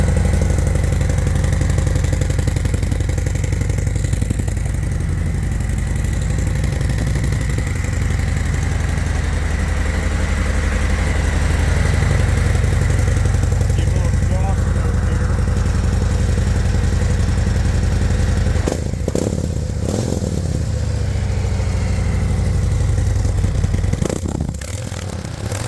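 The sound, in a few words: Harley-Davidson CVO 2023 121 motorcycle engine idling, stock mufflers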